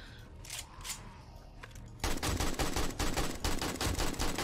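Rapid gunfire at a bear in the survival video game 7 Days to Die starts halfway through as a loud, steady stream of repeated shots after quieter game noise, with no talk.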